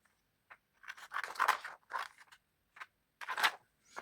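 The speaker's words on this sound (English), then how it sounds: "just cut the plastic to fit" Scissors snip through plastic packaging in a few short, crisp cuts and crinkles, close and fairly quiet with pauses in between.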